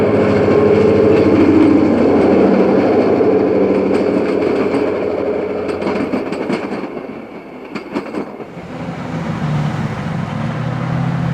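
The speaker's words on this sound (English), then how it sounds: "Wabash's westbound Bluebird rolls right along through Oak Lawn" Westbound Wabash Bluebird passenger train rolling through Oak Lawn, Illinois in the 1960s, a loud steady rumble of cars passing close by with clickety-clack wheel beats and a brief dip before the roar resumes.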